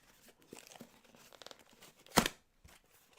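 A package of graded Pokemon and YuGiOh cards is torn open up close, with soft crinkling and rustling that builds to one sharp, loud rip before fading to a few faint scrapes.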